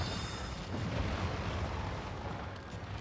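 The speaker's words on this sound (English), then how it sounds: "he uses magic, which is not very good for our health. See, he causes explosions." Booming magic explosions from a boss fight in Dark Souls, a dense continuous roar of rumbling blasts with no clear gaps, loud and close, with no talk over it.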